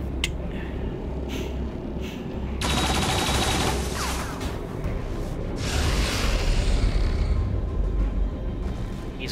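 Gunfire in the strategy video game XCOM 2: War of the Chosen, a burst of rapid shots and mechanical clatter over a low rumbling game soundtrack, with no voices.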